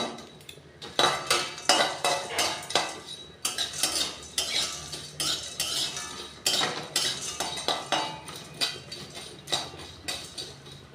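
Nutmeg, cardamom, cinnamon and cloves are dry roasted in a pan, with a run of rapid, close metallic scrapes and clinks as the spatula stirs the whole spices, continuing steadily with no talking.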